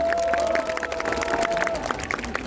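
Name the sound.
crowd applause at political rally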